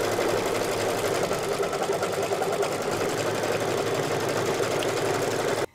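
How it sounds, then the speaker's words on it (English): An embroidery machine stitches a cross-hatching pattern on the bottom half of a phone case, a steady, rapid mechanical chatter that runs continuously and close by, then stops abruptly at the end. "the cross-hatching stitches are going to be made on the bottom half of the case"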